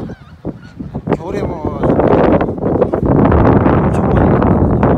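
Wild geese honk and call overhead, migrating flocks heard outdoors under blustery wind noise, while someone talks over the steady clamor.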